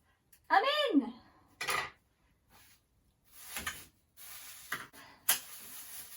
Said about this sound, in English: I got a plastic spoon just to mix the paint together